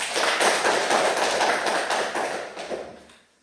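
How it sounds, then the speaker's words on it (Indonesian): Fifth-grade students in a classroom applauding together, a steady dense patter of claps that fills the room and fades out near the end. "Tepuk tangan dulu untuk kalian."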